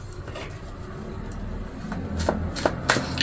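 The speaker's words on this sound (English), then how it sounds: "Nine of Cups has just tripped out while I was shuffling cards there." Brisk riffling and soft slaps of a deck of cards being shuffled, a few sharp bursts near the end, in a quiet room.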